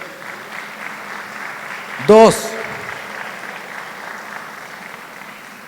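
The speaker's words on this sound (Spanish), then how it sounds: "Dale un fuerte aplauso a Dios." A church congregation claps in an even, moderate patter of applause during a sermon, with a brief spoken word cutting in near the middle.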